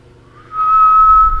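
A voice imitates a whistle with a single faint, thin, breathy tone lasting about a second.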